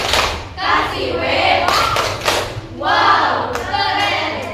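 Rhythmic group clapping in an Indonesian classroom chant, with a steady pattern of claps rising and falling across the clip and voices shouting along.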